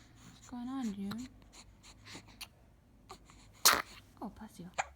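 A two-month-old baby's small sneeze bursts out amid soft breathy sounds and quiet murmuring, with a brief high squeal beforehand.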